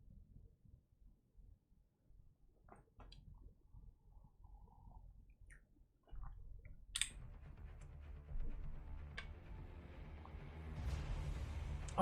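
Keys on a custom Class1800 mechanical keyboard build click in a quick, irregular run of sharp, close taps over a low steady hum, with no talking.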